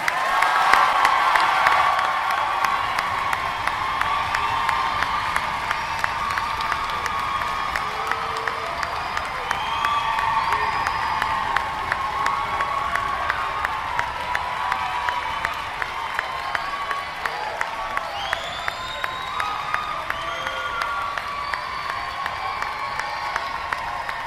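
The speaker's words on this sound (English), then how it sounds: "Let's give another round of applause for our graduates." An audience at a spring graduation ceremony applauds and cheers for the graduates, with sustained clapping, scattered whoops and shouts, and a lively crowd roar that continues throughout.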